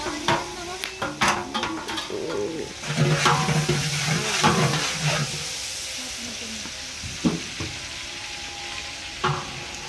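Salted onions fry in a large pot for a wedding-style meat khichuri, sizzling under irregular scraping and knocking of a ladle stirring, with faint background voices.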